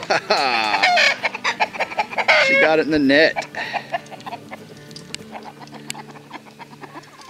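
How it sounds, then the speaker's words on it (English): A rooster, just caught in a net, squawks and clucks loudly in agitated bursts close by, then settles into softer clucking while a person speaks briefly. "Rooster has been caught."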